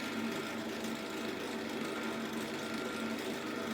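Steady, continuous whirring and rasping of a power sander working a piece of scrap wood on a lathe project, loud and close, holding an even level throughout with no talking.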